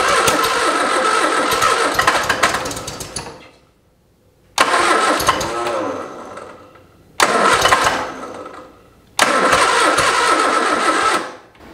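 A 1973 MG Midget, abandoned and parked for over 40 years, cranks and fires in four loud bursts of engine noise separated by short silent pauses, each burst a rough churning run.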